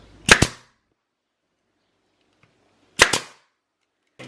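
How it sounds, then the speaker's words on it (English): Nail gun driving small-headed nails into wood during a home project: two sharp double-crack shots a few seconds apart in near silence, with a third starting at the very end. "now we're just going to take a nail gun and we're going to throw a couple of nails"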